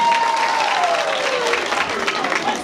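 Students clapping together at a school assembly, a steady dense wash of applause over the whole stretch, with a voice speaking over it.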